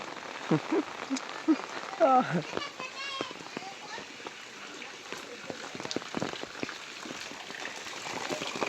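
Rain falls steadily on surfaces, a constant close patter, while people talk and call out over it in brief bursts.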